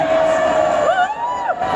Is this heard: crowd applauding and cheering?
yes